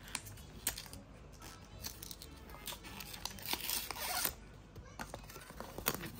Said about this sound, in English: let's take off the sticker here